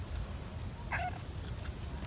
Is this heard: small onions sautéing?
no